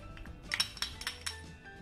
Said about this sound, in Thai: เราก็คนนะคะให้เนยกับสารให้ความหวานนะคะละลายเข้ากันนะคะ